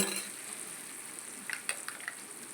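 Ginger garlic paste with tomatoes and turmeric frying in oil in a pan for fish curry, a soft steady sizzle with a few sharper crackles and spits near the end, close and fairly quiet, with no talking.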